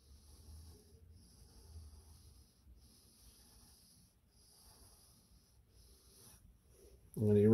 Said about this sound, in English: I'm going to draw a construction line for that